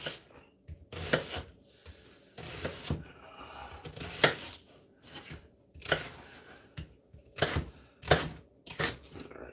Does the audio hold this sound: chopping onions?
yes